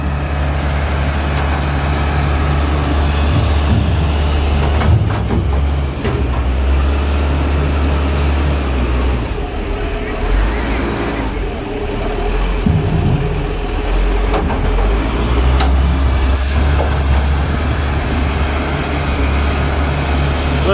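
A CAT IT28B integrated toolcarrier drags a broken Hyundai 740-3 XTHD wheel loader, its diesel engine a loud, steady low rumble throughout with faint scraping and mechanical clatter.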